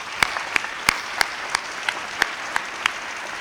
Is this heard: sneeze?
no